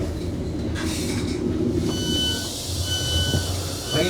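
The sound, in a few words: Class 156 train running on the West Coast Main Line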